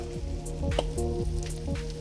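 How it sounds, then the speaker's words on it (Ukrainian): Apples with sugar frying in butter over medium heat sizzle steadily in a pan, a soft continuous crackle close by with a faint hum beneath. "І тепер все це я обсмажую на середньому вогні"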